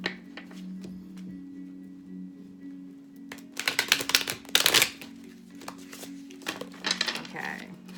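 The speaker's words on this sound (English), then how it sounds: "One more shuffle." Tarot cards shuffled in a few quick riffling bursts near the middle and end of the stretch, crisp and close over a low steady hum, with faint talk at the start.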